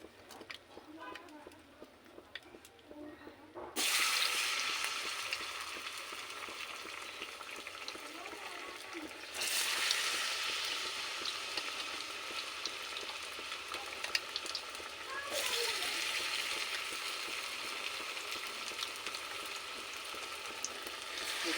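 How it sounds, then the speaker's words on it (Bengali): Pumpkin pakora frying in hot oil, a loud continuous sizzle that bursts in as the batter drops in and rises again twice more as further pieces go in, with a voice talking quietly at the start. "এখন আমি মিষ্টি কুমড়োর পকোড়াটা বসিয়ে দেবো।"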